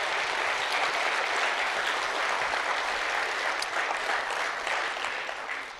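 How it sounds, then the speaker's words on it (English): A college audience applauds students after their year-end presentations, a dense, sustained clapping that stays loud throughout and fades slightly near the end. "let's give them a round of applause and appreciate their work"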